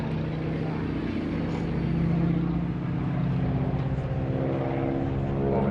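A propeller aerobatic airplane at the 2016 NAS Oceana Airshow drones overhead while flying a figure-eight and rolling upright, a steady engine rumble that swells slightly as it maneuvers, distant and continuous.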